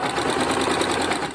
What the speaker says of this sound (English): they'll go through your sewing machine with the lower feed dogs, and then the walking foot helps to keep your fabric from shifting as you sew it